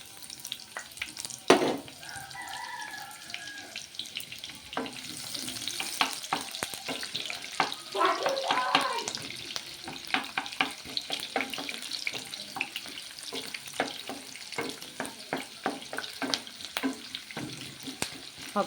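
Sliced onions frying in hot oil in a home kitchen while making an eggplant pickle masala, a steady close sizzle with scattered clicks and stirring scrapes running the whole stretch, no voices.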